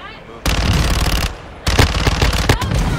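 Rapid automatic gunfire in Warzone 2 (Modern Warfare II), loud and close, two sustained bursts with a short lull between them and sharp cracks at the end.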